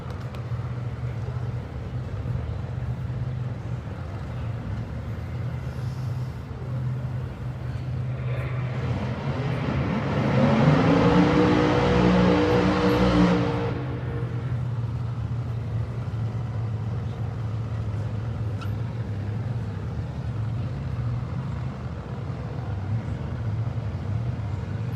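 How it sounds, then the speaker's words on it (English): Nostalgia funny car drag racers rumble through side-by-side burnouts, a rising roar that swells for a few seconds over steady crowd and track background, heard from some distance. "So the team's coming back for their great side-by-side burnouts."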